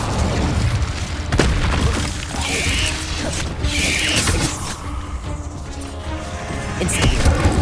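Incendio fire spells are cast in Hogwarts Legacy, heard as loud bursts of whooshing flame and booming impacts that repeat at irregular intervals amid combat clatter.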